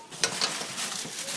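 Marshmallows are stirred in a pan for Rice Krispie treats, with close scraping and soft sticky sizzling plus a couple of sharp utensil clicks near the start.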